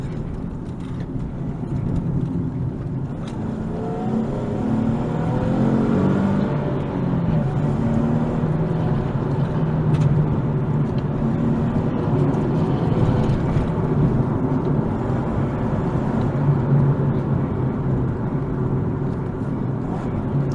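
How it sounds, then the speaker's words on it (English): A manual 2013 Nissan 370Z sports car drives along tight twisty roads, its engine droning steadily and loudly throughout, with rising and falling revs around the throttle blips and no voices. "Hear those throttle blips."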